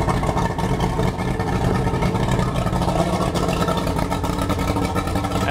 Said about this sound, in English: the engine right now is just idling